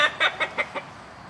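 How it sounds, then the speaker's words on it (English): A rooster close by gives about five quick, loud clucking bursts in a row, alone with no talk, then goes quiet. "That rooster."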